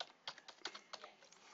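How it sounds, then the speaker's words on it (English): Someone types an IP address on a computer keyboard: a short burst of quiet, close key clicks in an irregular rhythm, with no voices. "typing it straight into an Internet Explorer page"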